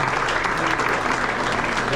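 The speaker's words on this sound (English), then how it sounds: "Give yourselves a round of applause for everything you've done for your boys" Families clapping at a high school basketball banquet, a dense, even round of applause filling the room with talk mixed in.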